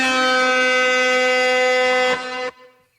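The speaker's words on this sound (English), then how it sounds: "You get a special air horn for that." A special air horn blasts one long, loud, steady tone for about two seconds, then cuts off abruptly with a short fading tail and no voices.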